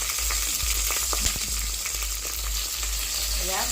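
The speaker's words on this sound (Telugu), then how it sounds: "ఆయిల్ వీడెక్కిన తర్వాత ఆనియన్స్ వేసుకొని కరేపాకు వేసుకున్నాం అలానే పచ్చిమిర్చి" Onions, curry leaves and green chilies fry in hot oil for chicken biryani, giving a steady, close sizzle with faint stirring scrapes and no talk.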